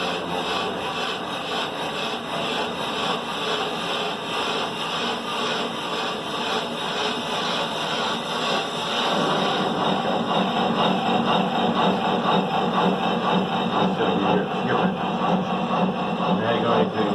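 A brake lathe cuts a rusty brake rotor on a fast cut at high speed, giving a continuous loud grinding, scraping rasp close by that grows a little heavier partway through, with no talking.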